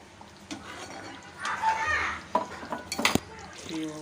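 A spoon scrapes and stirs a ragi flour and semolina mixture in a metal pan, with clinks against the side and a soft sizzle, under quiet speech.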